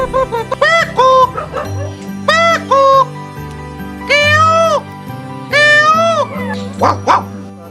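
A man imitates animal calls, voicing a run of loud, drawn-out yelping howls that sound like a dog, repeated four times in quick succession over a low, steady background.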